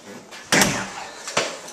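An apartment door in a Brooklyn co-op building is handled, giving a sharp thud near the middle followed by a second, lighter knock, both close and fairly loud against quiet room ambience.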